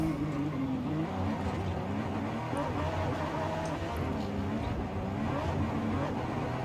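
A car engine in a racing video game drones steadily at moderate volume, holding a continuous buzzing tone with slight pitch wavers throughout, as if cruising along a track.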